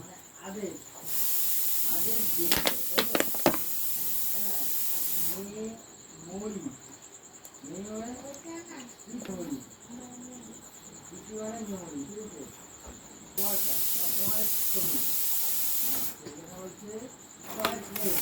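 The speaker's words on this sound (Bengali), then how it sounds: "প্রেশারে ডাল হয়ে গেছে সিটি পড়ছে" A pressure cooker cooking chana dal lets out loud, steady steam whistles in long bursts, with a person talking between and over them.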